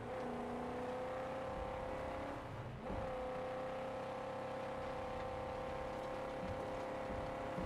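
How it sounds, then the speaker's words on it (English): A car engine in the Mad Max video game holds a steady, droning hum with a sustained tonal whine, one brief dip and recovery midway, moderately loud and alone without speech. "it's kind of a neat sounding car"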